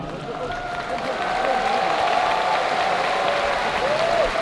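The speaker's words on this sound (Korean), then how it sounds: "노블레스 선수께 큰 박수 부탁드리겠습니다." A crowd at a Black Combat fight event applauds a fighter, steady clapping that swells after the first second, with scattered shouts and cheers rising over it.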